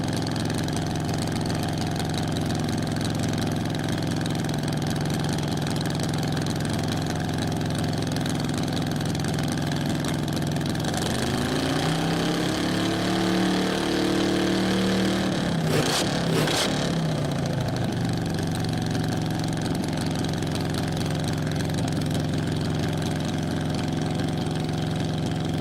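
A 1984 Chevrolet 8-cylinder engine in an F Fuel modified roadster runs rough on only four cylinders at a dry lake race meet, a steady loud drone that shifts pitch in the middle.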